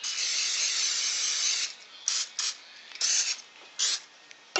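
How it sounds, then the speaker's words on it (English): A long continuous hiss from a spray can, then four or five brief sharp spritzes with pauses between them, heard up close. "Then I just spray a little bit on the inside."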